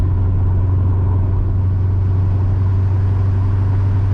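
A supercharged E85 C6 Corvette produces a deep, steady engine rumble, loud and constant throughout with no break.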